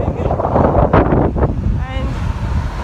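Strong outdoor wind buffets a handheld microphone on a cold, blustery day, a loud rumbling roar that surges and drops.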